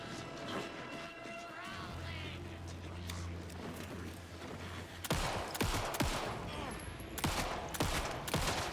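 Gunfire at cultists in the video game Alan Wake II, sharp shots cracking in a rapid cluster in the second half over a low rumbling game backdrop, with someone talking throughout.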